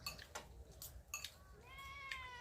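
A house cat meows several times at home, faint and close, with clinks of dishes or cutlery around it and a soft voice in the background.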